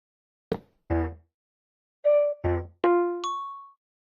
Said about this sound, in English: Pumpkin is a didgeridoo.